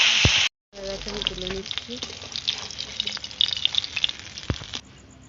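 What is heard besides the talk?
fish frying in oil in a wok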